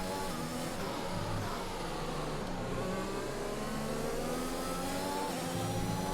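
Racing car engine in the F1 2021 video game during a race with an engine issue, a steady mid-pitched drone with rising and falling revs held continuously throughout, loud and alone without talk.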